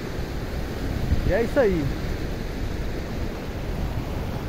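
Heavy rush of water pouring into the Gargalheiras reservoir in Acari, a steady broadband roar filling the whole clip with wind buffeting the microphone, while someone speaks briefly over it.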